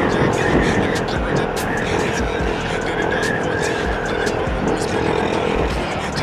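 Car making a U-turn on the C5 extension road, with engine and tyre noise rolling steadily under people talking inside the vehicle.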